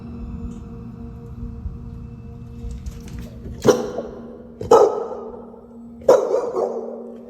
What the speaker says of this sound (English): the dog continues to bark, clearly very angry at something